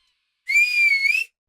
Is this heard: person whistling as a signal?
yes